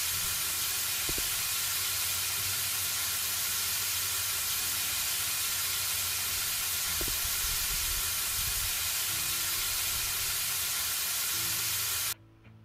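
Spraying in the House Flipper game, a steady loud continuous hiss of spray that runs unbroken for about twelve seconds before cutting off abruptly.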